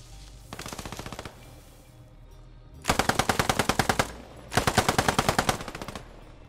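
Machine gun fire in the WWII shooter Post Scriptum, set in the 1940 Fall of France, comes in three rapid bursts, the first lighter and the next two loud and close, with short pauses between.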